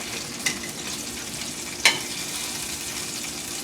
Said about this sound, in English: we're just loosening it up from the pan because it got stuck